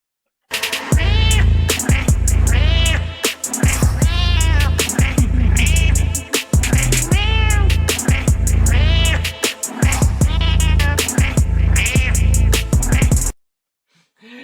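A cat gives a long run of loud, close meows and yowls, one after another with short breaks, as though chattering, before the sound cuts off near the end.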